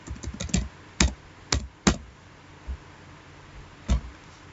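Computer keyboard typing while entries go into a table, short bursts of close key clicks at first, then a few isolated taps spaced a second or more apart, with no talking over them.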